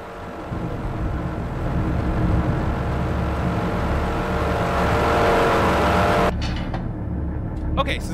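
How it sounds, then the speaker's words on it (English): Submarine diesel engines run in the Wolfpack video game, a loud steady low rumble and whir that drone without a break before the sound cuts abruptly and a few faint clicks follow. "Okay, so the diesel engines are now back up, as you can hear."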